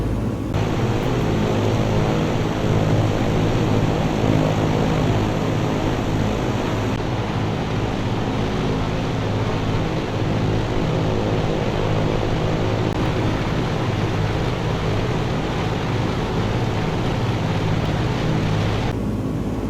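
A propeller aircraft engine in Microsoft Flight Simulator 2020, flying from Gibraltar to Malaga: a steady, loud droning hum with low rumbling tones holds unbroken throughout, with no speech over it.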